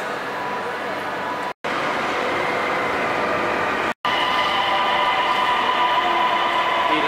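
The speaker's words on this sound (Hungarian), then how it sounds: "Ezzel a vonattal érkeztem, és akkor ez a vonat megy tovább" A train pulls out of Copenhagen station, with a continuous loud rumble and rolling rail noise close by that holds steady throughout, broken only by two brief cuts.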